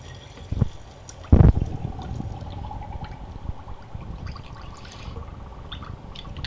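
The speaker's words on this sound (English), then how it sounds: "And then I'm going to fill it up almost all the way with water." Tap water runs steadily into a jar holding garden soil and a teaspoon of dish soap, starting with a sharp knock and then a continuous, fairly quiet filling rush with no talking.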